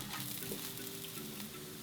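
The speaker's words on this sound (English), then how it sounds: "fried up with some onion and garlic and salt and oil" Soft, steady sizzling of mushrooms, onion and garlic frying in oil, a continuous low crackle with faint ticking, no voices.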